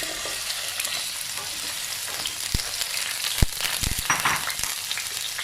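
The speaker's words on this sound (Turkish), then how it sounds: "soğanlarımızı kavurmaya bırakmıştım" Shallots frying in olive oil in a pot, a continuous crackling sizzle with a few sharp knocks and scrapes of stirring partway through.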